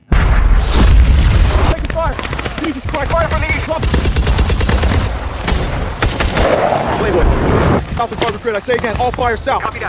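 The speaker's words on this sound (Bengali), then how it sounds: "বিমান বাহিনীর লোকেরা তাদের বিমানের সাহায্যে কিনি থেকে অল্প দূরত্বে প্রচুর বোমা ফেলে" Bombs dropped from an air force plane explode in an action movie scene, a run of loud booms and blasts with rapid gunfire-like cracks layered over dramatic soundtrack and effects, close and intense throughout.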